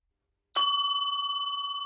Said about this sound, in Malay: Saya bunyi loceng 1 kali ya